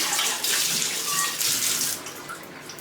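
Tap water runs steadily into a cooking vessel as it is rinsed clean in a home kitchen while making paneer, a close, continuous rush that softens slightly toward the end.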